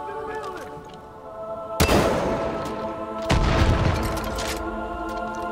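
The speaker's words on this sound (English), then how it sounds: "I'm gonna give him a rocket launcher." Two heavy booms from a rocket launcher explosion in the video game Far Cry 5, on an arcade custom map, each a sudden loud blast that rumbles and fades over a droning game background.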